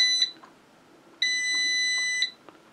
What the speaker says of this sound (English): Quit beeping. I wish I could turn that sound off.